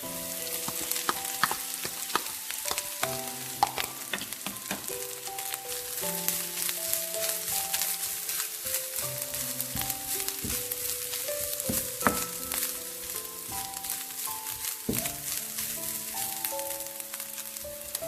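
Grated coconut frying in hot oil in a pan for Kerala-style kadala curry, a steady close sizzle with crackling pops and occasional stirring scrapes throughout, no voices.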